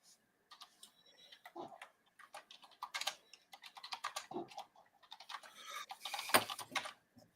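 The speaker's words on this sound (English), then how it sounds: "Someone's typing away." Quiet, close keyboard typing in uneven bursts of clicky keystrokes, with brief pauses between runs and a louder tap near the end.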